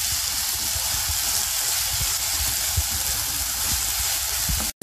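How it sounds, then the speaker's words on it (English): Onion paste frying in a pan makes a steady, close, loud sizzle that runs without a break for nearly five seconds and stops abruptly at the very end. "I will add onion paste into this. Let this mixture fry for at least 4 to 5 minutes"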